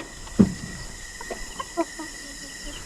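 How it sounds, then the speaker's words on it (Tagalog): A native chicken hen clucks sharply once, followed by a few softer clucks and chirps from chickens nearby, with faint background hum. "Kasi mga native na manok."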